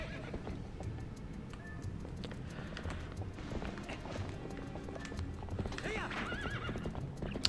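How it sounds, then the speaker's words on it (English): Hoofbeats of a galloping horse in The Legend of Zelda: Twilight Princess HD, with a whinny near the end, over busy game sounds and continuous talk. "Horse, where are you?"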